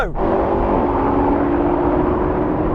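A BMW M5 accelerates hard in a drag race, a loud steady engine roar holding a sustained tone after a brief sweep at the start, with no pause in the drone.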